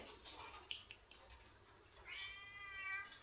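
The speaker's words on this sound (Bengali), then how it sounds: "কালু, এই কালু, কি ম্যাও, খেতে হবে?" A cat meows once, drawn out and moderately close, after a few soft taps and clicks in a quiet room.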